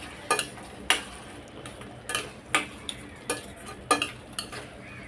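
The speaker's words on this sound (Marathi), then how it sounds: "हे सगळं आता मिक्स करायचं आहे।" Raw mango pieces tossed with salt and red chili in a pot, heard as distinct scraping spoon strokes at an uneven rhythm, close and fairly soft, with a faint background hiss and no talking.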